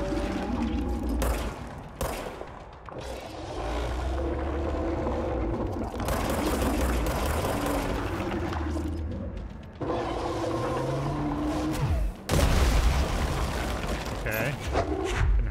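Repeated gunfire in the video game Control, with rapid bursts and heavy booming impacts recurring over a dense, continuous layer of game noise, with a man briefly laughing and talking.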